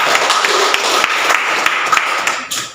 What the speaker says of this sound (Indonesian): tepuk tangan untuk Marta